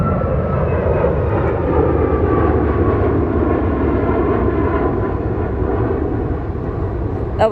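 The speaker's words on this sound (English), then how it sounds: "That was Southwest Airlines heading to St. Louis on the 737 MAX 8." A Southwest Airlines Boeing 737 MAX 8 jet roars steadily and loudly, its broadband engine rumble holding throughout with slowly shifting tones, as if passing or climbing out near an airport.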